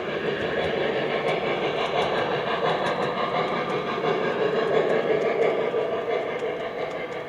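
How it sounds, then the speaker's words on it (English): A train running west through a tunnel toward a station on a Boston rail line, giving a steady, continuous rumble and rail noise with faint repeated clicks, heard alone at a constant level throughout. "As the train moves west, it reaches the station at Riverside."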